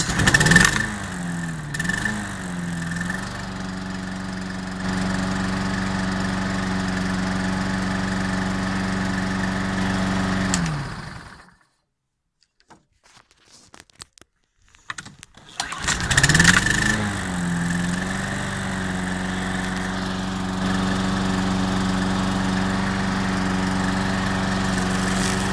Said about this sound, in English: Let's try and start it. This is a cold start.